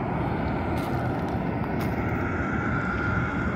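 American Airlines airliner close to the runway, a steady broadband engine roar and rumble that stays constant and fairly loud throughout, no voices.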